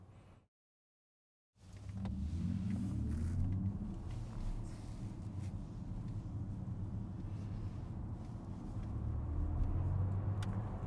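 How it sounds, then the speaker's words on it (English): A low, steady drivetrain rumble and whir inside a moving 2025 Audi Q6 e-tron electric car, swelling under hard acceleration after a brief silence at the start. "you also do notice some noise going on in the drivetrain when you floor it"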